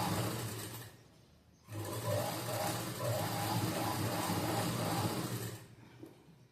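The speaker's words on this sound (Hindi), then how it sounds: "यहाँ से सिलाई स्टार्ट करना है" A sewing machine stitches a hook strip onto a blouse, running in two steady bursts with a short pause between them, close and fairly loud, with no voices.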